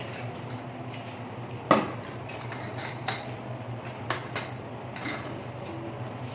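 A pressure cooker lid is opened on beef stew after about seven whistles, with one sharp metallic clack followed by a few lighter clinks over a quiet kitchen hum.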